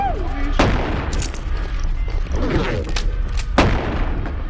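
Gunfire in the VR game Animal Company: four sharp shots at irregular intervals over steady game background noise, with brief speech mixed in.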